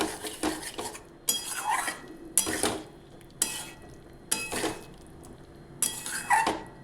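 Spoon stirring hing-flavoured vegetarian aloo dom in a metal pot, a series of scraping, clanking strokes in bursts with short pauses, close and fairly loud over a soft background hiss.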